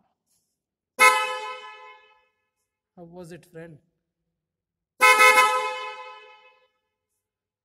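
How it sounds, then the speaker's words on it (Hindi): Two loud, sustained horn blasts from new horns on an Apache RR 310 motorcycle sound close by, separated by a brief spoken phrase, with silence around them. "so let me push the horn"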